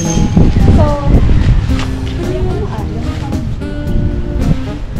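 Heavy wind on a rooftop buffets the microphone in a loud, continuous roar while a person talks over it in Filipino.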